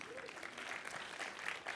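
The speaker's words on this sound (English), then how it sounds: "Give yourself a round of applause." A brief, faint burst of audience applause in a talk setting: a dense, even patter of clapping that holds steady for under two seconds.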